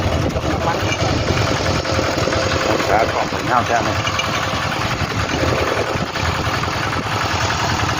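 A walk-behind tractor engine runs steadily while towing a trailer along a road, a loud continuous chugging drone with someone talking over it.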